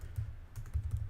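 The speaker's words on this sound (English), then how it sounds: "So LED, I'm typing LED lights." Fingers typing on a computer keyboard to enter a web search, a close, quiet run of quick key clicks in uneven bursts with no talking.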